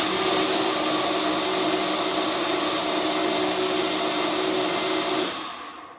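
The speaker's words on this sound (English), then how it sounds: "why we blend it in the blender" A blender whirs loudly and steadily, blending a latte with bone broth protein, a continuous high whine that holds for several seconds before it winds down and stops.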